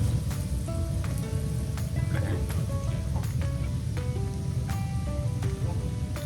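Steady, dense sizzling and crackling of battered squid deep frying in hot oil, continuous and close, with small pops scattered throughout.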